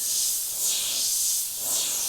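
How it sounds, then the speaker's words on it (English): Airbrush spraying smoothly, a close, steady high hiss that pulses gently in strength over about two seconds, with no voices. "So this particular airbrush, as you can see, is running nice and smoothly"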